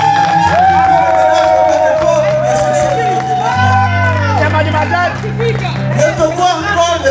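Crowd at a slam poetry show in Togo applauding and cheering, with lively clapping mixed into loud babble, whoops and shouting voices over a droning background tone.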